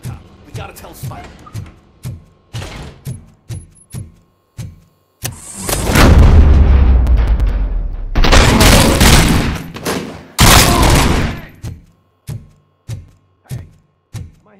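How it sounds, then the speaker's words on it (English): Gunfire in the RoboCop: Rogue City video game, sharp rhythmic single shots cracking one after another, broken by two long, loud bursts of heavy roaring fire before the steady shots resume. "Am I hearing gunshots?"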